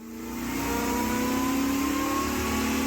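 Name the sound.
Corvette V8 engine revving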